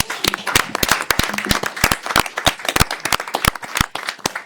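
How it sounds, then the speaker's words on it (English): A small group applauds at a city council meeting after an oath of office, distinct individual claps in an irregular sparse rhythm, close and crisp in a quiet room. "let's give them a round of applause"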